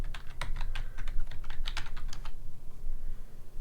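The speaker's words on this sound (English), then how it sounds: "I'm going to type it off screen." Quick, uneven keystrokes on a computer keyboard tap out a password in a close, moderately quiet burst, then stop, leaving faint room hiss.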